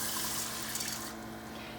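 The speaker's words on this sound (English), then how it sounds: "We've got 2 1/4 cups of water." Water pouring from a cup into an Instant Pot over rice, a steady close splashing rush lasting under two seconds that thins slightly toward the end.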